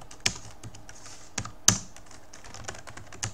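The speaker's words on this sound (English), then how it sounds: "Now just go on typing" Typing on a computer keyboard while writing a C program in an IDE, with a steady patter of close key taps, a few sharper, louder strikes among them, and no speech.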